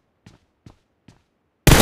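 Three evenly spaced single gunshots in PUBG Mobile, short and fairly distant against near silence, then an abrupt loud burst of noise at the very end.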